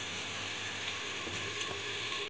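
Carrot, green chilli and whole cumin dry-fry in a pan, giving a steady, even sizzle with a faint stirring scrape, and no voices.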